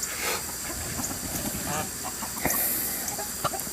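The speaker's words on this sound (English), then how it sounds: "The roosters start chasing the girls and each other." Chickens and roosters in a farm yard, hens clucking faintly among steady outdoor hiss and scattered short bursts as the roosters chase the hens and each other.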